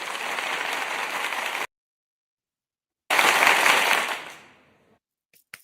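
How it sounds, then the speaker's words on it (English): A group applauds itself in two bursts of dense clapping, the first cut off abruptly, then after a silent pause a second loud round that fades out. "Let's give ourselves a round of applause"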